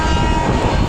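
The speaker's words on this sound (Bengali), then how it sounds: "ট্রেন রুদ্ধশ্বাস গতিতে ছুটে চলেছে।" A passenger train runs at high speed, a close, continuous rumble with a rolling rhythm of wheels under the carriage over one brief second.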